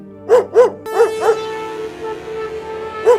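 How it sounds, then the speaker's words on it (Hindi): Dogs bark loudly and close by: a quick pair of barks, another pair a moment later, then a lone bark after a short pause, with a faint hum lingering between them. "पक्का ऐसे भौंक रहे कुत्तों, मैं क्या तुम्हारी प्रजाति का हूँ?"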